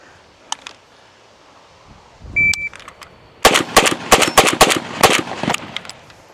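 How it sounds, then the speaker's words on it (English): Zastava M92 rifle firing GROM ammunition outdoors: a single early report, then a rapid run of about six sharp, loud shots in quick succession, each with a brief crack and decay, and no talk. "Six shots. Let's try that again."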